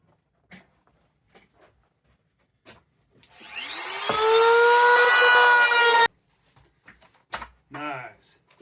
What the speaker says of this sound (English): now we're going to run the router around the bottom edge to make that nice and round